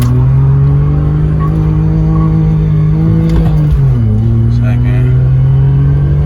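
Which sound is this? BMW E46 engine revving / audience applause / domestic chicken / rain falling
BMW E46 engine revving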